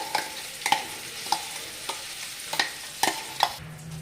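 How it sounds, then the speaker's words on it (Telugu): Onion chutney with asafoetida and curry leaves being stirred in a pan: a sizzle runs steadily beneath repeated sharp spoon scrapes and clinks, roughly every half second, close and fairly loud, with no voices. "ఇలా మొత్తం ఒకసారి కలిపేసుకోండి."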